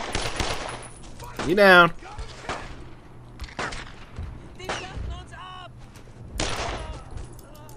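Bursts of rifle and machine-gun fire in the World War II game Brothers in Arms: Road to Hill 30, sharp cracks and short volleys spread across the clip, with someone speaking briefly between shots.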